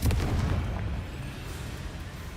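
A Confringo spell explodes in Hogwarts Legacy with a loud, close boom, followed by a long rumbling decay that fades slowly.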